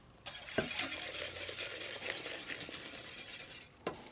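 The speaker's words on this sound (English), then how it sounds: "I can whisk this back into the pot" A whisk works black pepper ice cream base in a pot with a steady swishing scrape and a few light metallic clinks against the sides, close and continuous, with no talking.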